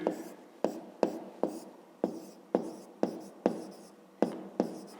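A pen taps and scratches across notebook paper in about a dozen short, evenly spaced strokes, close and crisp, with no talking.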